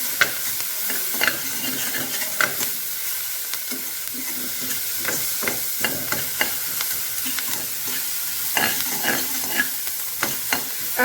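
Chopped onions with cumin seeds sizzling in hot oil in a pan, loud and close, with steady frying crackle and repeated scraping stir strokes of a spoon throughout.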